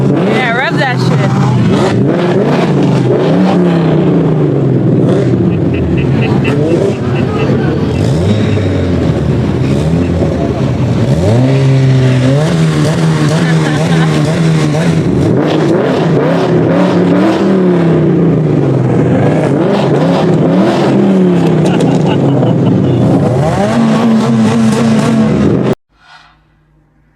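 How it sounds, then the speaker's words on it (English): A Nissan GT-R's engine roars close and loud, revving in repeated rising and falling sweeps for nearly half a minute before cutting off abruptly, with voices shouting over the din. "rev that shit"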